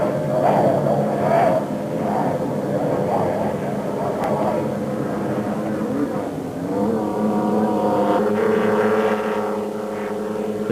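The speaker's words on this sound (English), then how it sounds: "The twin 850 horsepower Lamborghini engines in John Clark's Class 1 Cat should give him the edge over the smaller but more manoeuvrable craft in the race" Class 1 powerboat catamarans with twin 850 horsepower Lamborghini engines roar at a race start, a loud, sustained engine drone with shifting pitch as the boats accelerate, and a commentator talks over it.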